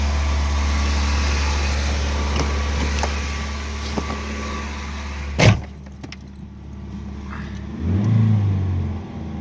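A Nissan Silvia engine holds a steady elevated idle around 2000 rpm, a constant low hum, broken by a sharp knock midway and a brief swell of engine noise near the end.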